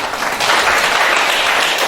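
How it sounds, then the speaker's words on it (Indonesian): A classroom audience claps together in steady, dense applause that stays loud and even for a couple of seconds, with no voices over it. "Kasih aplaus ya"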